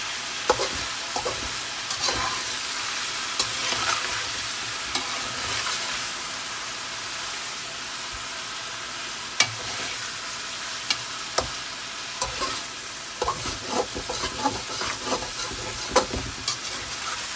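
Chicken karahi sizzles loudly in a pan while being stirred, a continuous close hiss and crackle broken by repeated scraping clanks of the spoon against the metal.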